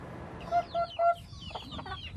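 Chickens on a village poultry farm, three short, sharp clucks in quick succession followed by softer clucking and murmuring from the flock, close and clear over low background noise, with no talking.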